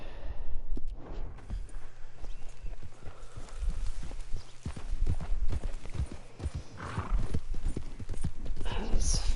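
Hooves of a horse ridden at speed in the video game Red Dead Redemption 2, a quick, rhythmic clip-clop drumming close by over rough ground, with snorts and a voice talking at points.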